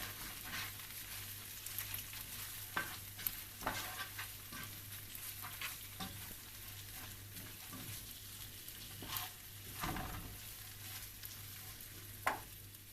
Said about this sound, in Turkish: Pirinçlerimizin rengi değişene kadar